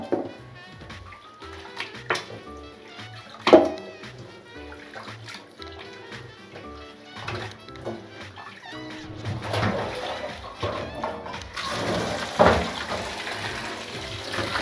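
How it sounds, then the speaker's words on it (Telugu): Raw country chicken being washed by hand in water with turmeric and salt, giving repeated splashing and sloshing in a vessel, with intermittent clinks and a louder pouring rush toward the end. "ఒక 3 సార్లు కడుక్కుందాం. 3 సార్లు కడిగి దీంట్లో మంచిగా వడబోసుకుందాం."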